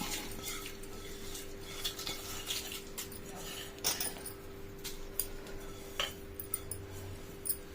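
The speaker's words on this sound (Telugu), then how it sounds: "మనం ఈ పోపును కూడా ఇందులో వేసి కలుపుకోవాలి" A spoon scrapes and clinks against a bowl while stirring tempering into thick gongura chutney, with sharp taps now and then over a low steady hum.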